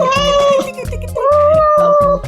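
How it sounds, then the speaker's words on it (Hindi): A cat meows loudly and repeatedly at close range. Two long, wavering cries stand out over a low rhythmic backing. "इतना प्यार करते हो ना तो बिल्ली को संभाल के रखो"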